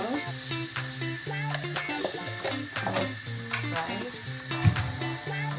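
Onions, peppers and tomatoes sizzle in a hot pan for a barbecue fish sauce. A steady hiss of frying runs underneath prominent background music, with no voices.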